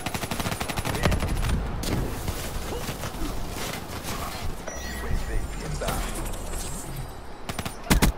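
Gunfire and mechanical weapon clicks in Call of Duty Black Ops 3 on PS4, with bursts of automatic fire, reloading rattles and clanks, fairly close over a busy game background.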